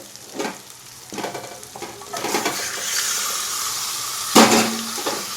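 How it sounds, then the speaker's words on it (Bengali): Marinated chicken dropped into a pan of fried spices for a homemade chicken curry, giving a loud steady sizzle with stirring scrapes and a sharp burst near the end. "এবার আমি মেরিনেশন করে রাখা এই যে চিকেনটা কিন্তু এর মধ্যে দিয়ে দেবো"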